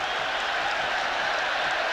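A stadium crowd roars at a 1989 Israel versus Australia soccer match at Ramat Gan right after a goal, a dense continuous wash of cheering and clapping with no talk over it.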